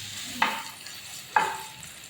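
Cabbage dropped into a hot wok, with two sharp bursts of sizzling about a second apart, each fading under a faint steady hiss.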